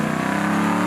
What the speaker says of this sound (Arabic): سيارة عضلات طرابية، نعم فيها صوت وهدير